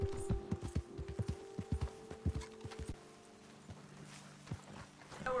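A horse's hooves clip-clop in Red Dead Redemption 2, a quick, close, loud run of hoofbeats over a steady tone that slows and fades to a few scattered, softer steps.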